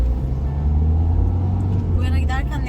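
A car turning in first gear on a driving test route rumbles with a steady low engine drone, and a person speaks over it briefly near the end.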